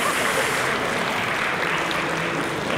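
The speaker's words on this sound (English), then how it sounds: "Let's give them a round of applause for their insights." Conference audience applauding panelists at innovfest unbound 2017, a dense, steady wash of clapping from a large crowd, continuous and even throughout without any voices rising above it.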